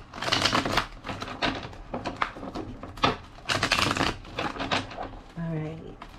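Rapid riffling shuffles of a deck of cards in bursts of crisp papery flutter, several in a row, close up, with a brief voice near the end.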